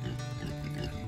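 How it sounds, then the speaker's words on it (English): A Kunekune pig gives short low grunting oinks close by, fairly quiet, with a faint wet background noise. "And we have Kune pigs."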